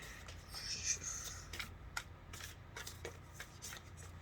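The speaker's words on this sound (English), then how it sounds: "I felt like shuffling up the cards and seeing if I get another message from my friends today." A deck of cards is shuffled close by in a quiet room, giving repeated soft papery riffles and light taps in an uneven rhythm against a faint low hum.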